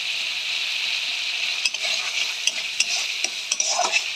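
Spiced masala stirred and fried in hot oil, a steady loud sizzle with a spoon scraping the pan in quick irregular strokes near the end.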